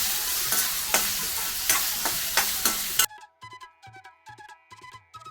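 Potatoes frying in a tempering in a pan, stirred with repeated scraping strokes over a steady sizzle for about three seconds before the sound cuts to a much quieter passage.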